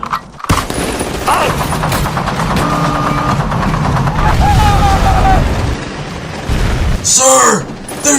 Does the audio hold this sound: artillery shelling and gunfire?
yes